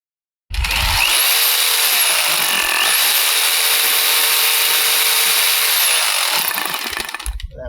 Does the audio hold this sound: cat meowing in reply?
no